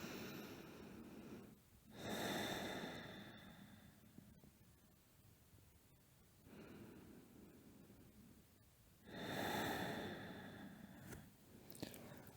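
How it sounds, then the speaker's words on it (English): Slow deep breaths taken in yoga child's pose, two long audible inhale-exhale cycles, soft and close, separated by quiet pauses with faint rustling. "2-3 deep breaths here."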